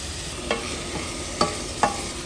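Garlic and carrots go into a pot of onions for tomato soup, with a steady sizzle and three distinct stirring scrapes or clinks of a spoon against the pot.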